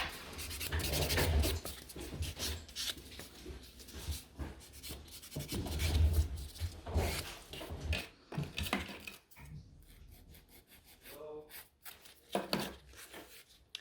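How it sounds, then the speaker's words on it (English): A nail file gently rasping around the cuticle during a gel nail extension, soft repeated scratchy strokes in short bursts, close and quiet with brief pauses, no talking. "so I'm just filing very gently around the cuticle area"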